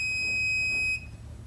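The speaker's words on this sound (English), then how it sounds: "it will trigger my high liquid alarm" A high liquid level alarm on an oil-water separator gives a steady, piercing electronic tone that holds for about a second and then cuts off, leaving a low hum.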